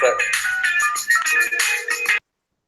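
A phone ringtone plays during a live-streamed debate, a bright melodic electronic tune with rising and falling notes. It sounds loud and close, repeats in short phrases, then cuts off abruptly into silence.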